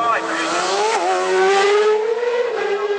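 A racing motorcycle at the Isle of Man TT flies past at speed on a fast lap, its loud, high engine note sweeping and shifting pitch as it passes close by, with a commentator's voice faintly underneath.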